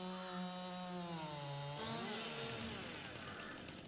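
Chainsaw cutting trees in the survival farming video game Hinterland, a steady motor drone with shifting pitch that dips and rises as the blade bites into wood, loud and continuous with no talk.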